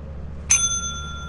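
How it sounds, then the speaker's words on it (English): A single bright bell strike rings out in Lethal Company, a sharp metallic ding with a clear sustained tone after a quiet start. "Come ring the bells for us. You might need to ring it a few times."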